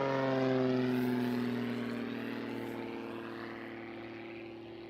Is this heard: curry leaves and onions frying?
no